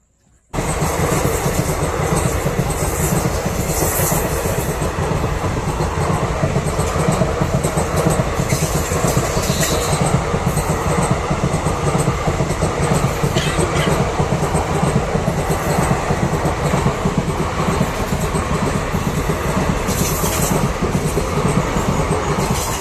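A train rolls past at night during a trip home, its loud, steady rumble and clattering wheels filling the whole stretch close by without a break.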